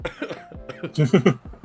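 Someone coughs several times in quick succession, harsh and close, after a short murmur of voice.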